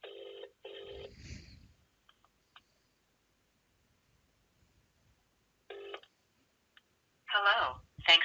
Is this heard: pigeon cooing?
no